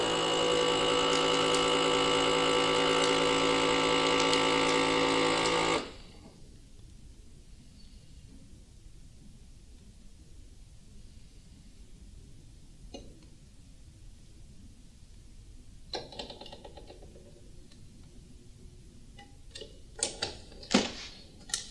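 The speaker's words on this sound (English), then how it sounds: "You can do the vacuum seal again, or you can just heat seal it." A vacuum sealer hums loudly and steadily for several seconds while sealing a sample bag, then cuts off abruptly, leaving quiet room noise with scattered faint clicks and taps.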